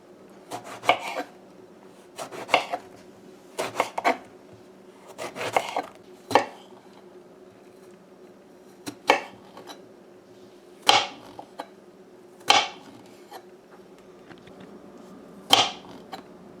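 A knife chops eggplant (bigan) on a cutting board, sharp single and paired thuds at irregular intervals with short quiet gaps, close by and clear, no voices.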